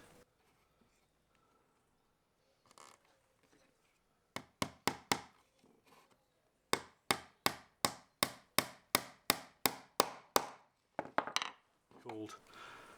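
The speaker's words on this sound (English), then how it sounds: "we've put a nail in both sides of each sidebar, and that will hold it securely to the top bar" Nails being hammered into a wooden beehive brood frame, a few separate knocks followed by a fast steady run of about a dozen sharp close taps, then a short scrape and rattle.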